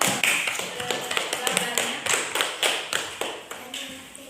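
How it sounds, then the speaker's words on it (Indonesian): Classmates in an Indonesian school classroom clap for the first student group, a close, somewhat uneven round of hand claps with distinct sharp slaps, a few voices murmuring underneath. "Tepuk tangan dulu untuk kelompok 1"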